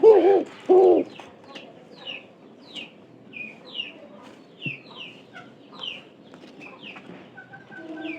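Domestic pigeons kept as pets coo, two loud deep coos at the start followed by quieter scattered calls and chirps in the background.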